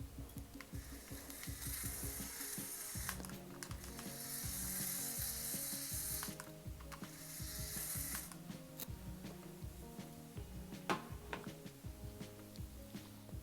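Plastic LEGO claw machine mechanism running, driven by a power functions motor: steady rapid ratcheting clicks and gear whir, close and continuous, with brief harder clacks, no talking.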